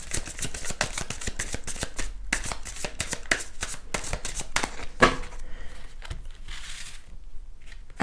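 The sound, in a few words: shuffling oracle cards before drawing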